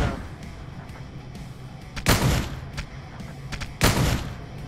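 Gunfire in Pummel Party: two loud, sharp bursts of shots stand out over a low background of game noise, with a few fainter pops scattered between them.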